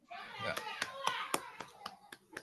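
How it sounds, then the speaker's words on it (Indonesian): Several sharp claps ring out in a classroom, a short uneven burst of hand clapping with children's voices murmuring underneath. "mari kita berikan aplaus untuk kita semua"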